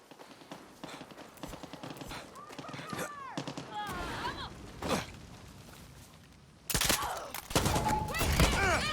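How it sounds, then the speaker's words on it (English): Anti-aircraft gun fire in the shooter Far Cry 6, sharp repeated blasts scattered through the scene, getting loud and heavy near the end, with a player speaking and other game effects in between. "I'm just going to go and take over this anti-aircraft gun"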